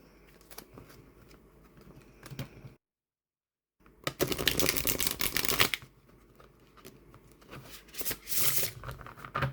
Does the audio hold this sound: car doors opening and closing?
no